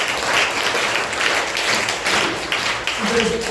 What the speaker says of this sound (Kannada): ಅವರ ಸಾಹಸಕ್ಕೆ, ಅವರ ಜ್ಞಾನಕ್ಕೆ ನಾವೆಲ್ಲರೂ ಜೋರಾಗಿ ಚಪ್ಪಾಳೆಯನ್ನು ತಟ್ಟಬೇಕು